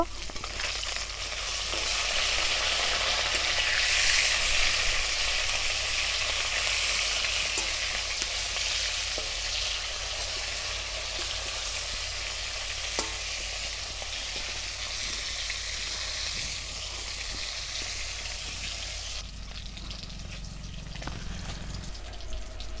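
Rohu fish fries in hot oil with a loud, steady crackling sizzle that continues throughout, with only brief clinks and no talking.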